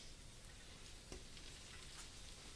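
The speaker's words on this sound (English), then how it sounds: "There, you hear that sizzle?" Fluffy French toast sizzles in a hot skillet, a faint, steady crackling hiss that holds evenly throughout with no voices over it.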